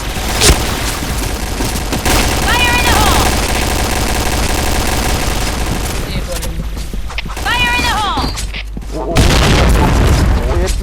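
Dense combat in the online shooter Point Blank: rapid gunfire bursts and heavy booming grenade explosions over a constant din, with voices shouting at times.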